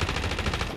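Rapid automatic gunfire from Call of Duty: Modern Warfare in a Resurgence match, a dense, continuous burst of shots lasting under a second, loud and up close with no talk over it.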